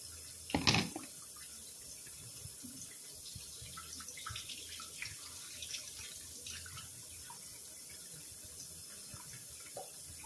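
Tap water runs in a steady, soft stream as squash is washed in a sink, opening with a brief louder splash and clatter, then faint sloshing and drips close by.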